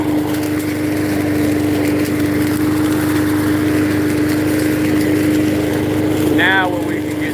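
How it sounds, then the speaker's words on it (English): A push lawn mower engine drones steadily and loudly while cutting grass on a large rural property, with a constant hum throughout and a voice talking over it. "Not too many 50-year-olds get out here with a damn push mower on 3 acres of land and start cutting."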